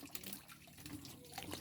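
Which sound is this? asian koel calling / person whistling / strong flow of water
strong flow of water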